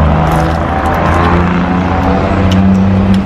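Loud semi trucks and dump trucks rolling past on a road, a steady close engine rumble and drone that swells slightly near the end, with no speech.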